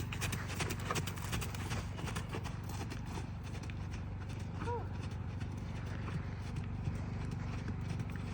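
A horse cantering on the right lead during a training ride, its steady rhythmic hoofbeats running throughout over constant background noise, with a brief whinny-like sound midway.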